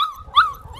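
A 5.5-week-old puppy whimpers in short, high whiny cries, one louder whine rising in the middle, close by with no talking.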